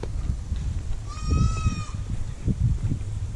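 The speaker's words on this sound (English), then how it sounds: "That's another baby goat." A baby goat a few months old gives one clear, wavering bleat, moderately loud, over steady outdoor background noise and rustling, with no talking.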